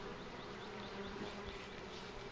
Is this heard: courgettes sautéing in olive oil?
no